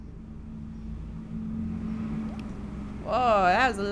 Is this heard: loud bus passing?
yes